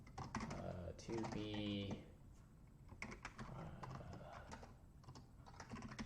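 Rapid computer keyboard typing clatters in close bursts, with someone talking briefly over the keystrokes.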